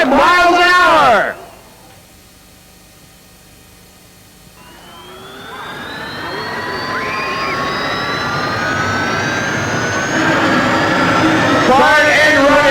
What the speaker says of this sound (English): the world's only gold-plated jet dragster, Jerry Hot Rod Siegel